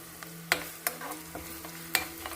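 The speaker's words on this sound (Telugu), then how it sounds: "ఇదిగోండి, కొంచెం ఒక చిన్న ఉల్లిపాయ పచ్చిమిరపకాయ ముక్కలు వేసుకుని వేపేసుకోవాలి." Onion and green chili pieces frying in a pan for gongura chicken: a low steady sizzle with a few sharp scrapes and clinks of a stirring spoon against the pan, close and quiet.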